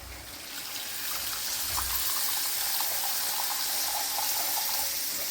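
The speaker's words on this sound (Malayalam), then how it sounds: "ഇനി നമുക്ക് പാകത്തിന് വെള്ളം ചേർക്കാം" Water pours steadily into a pot of curry being cooked, a continuous splashing gush that holds at an even level for several seconds with no talking.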